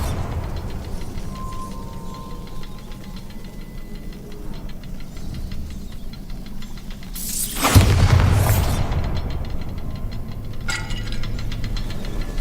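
The Bombarda explosion spell in the video game Hogwarts Legacy goes off as a single loud booming blast with a crackling tail, heard over a steady low game ambience, followed later by a fainter burst.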